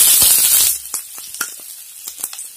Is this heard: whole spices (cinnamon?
yes